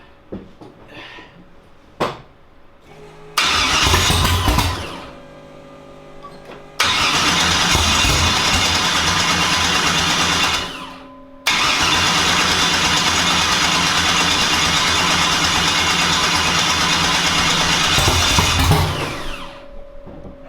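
A Chevy Nova with a new nitrous-fed engine fires up for the first time, cranking briefly, then roaring loud and close into a steady idle, with a couple of restarts and revs between short pauses.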